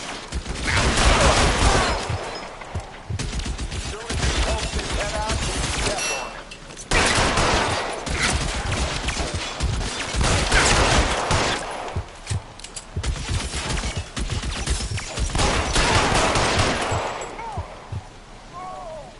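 Gunfire in the video game L.A. Noire: dense bursts of rapid shots and fusillades in long loud stretches, broken by brief pauses, with voices shouting between volleys.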